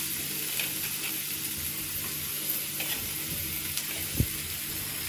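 Chopped tomatoes go into onions already sautéing in a pan, giving a steady, close frying hiss with soft stirring sounds and one dull thump near the end.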